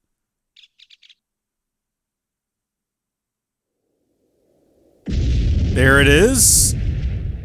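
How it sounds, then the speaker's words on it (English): Explosion set off in the Minecraft Tekkit 2 modpack with Industrial Craft: after faint chirps and near silence, a sudden loud broadband blast erupts and rumbles on for several seconds while a voice talks over it. "Okay, explosion, then we wait for the sound."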